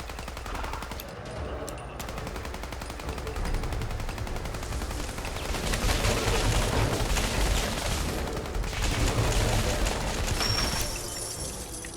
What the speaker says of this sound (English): Don't mess with the exploding bullets.